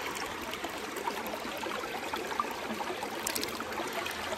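A tiny mountain brook trout creek burbles and trickles steadily nearby, a continuous wash of running water with no voices.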